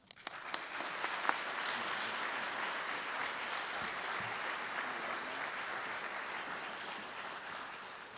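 Sustained applause from an audience at a Charleston Southern University Air Force ROTC commissioning ceremony for new second lieutenants, steady and dense throughout with a few sharper claps near the start.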